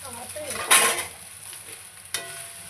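Boiled egg noodles are mixed in a metal strainer, a short run of close stirring and scraping with one sharp clatter near the start and a lighter knock later, no talk.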